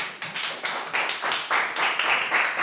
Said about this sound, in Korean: 모두 환영의 박수.